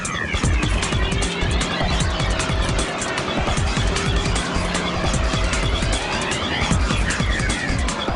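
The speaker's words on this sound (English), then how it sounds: "this is a BMW, just took off at a very high rate of speed" A BMW M3 accelerates hard from a street race, its loud engine roaring continuously close by with tire noise layered in throughout.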